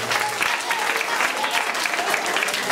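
Audience applause at a festival presentation for three-year-olds, a steady dense wash of clapping hands filling the whole stretch at moderate loudness with no voices over it.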